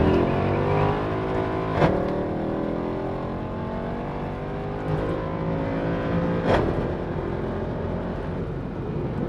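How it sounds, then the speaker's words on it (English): High-mileage Mercedes C63 AMG launching hard at a drag strip, engine roaring steadily with rising harmonic tones as the tires spin, two sharp transient bursts punctuating the continuous loud drone. "we got quite a bit of wheel spin there"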